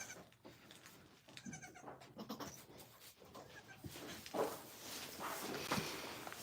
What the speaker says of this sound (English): There's goats everywhere.